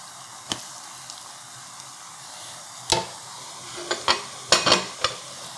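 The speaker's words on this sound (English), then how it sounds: "I'm just gonna go ahead and give it a quick stir." Seasoned onions sizzle in a Staub cast iron Dutch oven under a low steady hiss, while a utensil stirs them with several sharp scrapes and clacks that cluster toward the end, and no one speaks.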